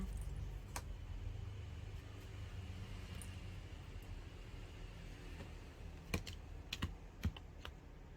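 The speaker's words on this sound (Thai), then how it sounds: "เดี๋ยวล้างไพ่ก่อนนะคะ" Tarot cards being shuffled by hand, a run of soft papery riffles and light taps close up over a steady low hum, with a few sharper clicks near the end.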